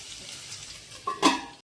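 Stuffed okra frying in oil in a pan gives a soft, brief sizzle, followed by two quick metallic clinks as a lid goes on, close and short.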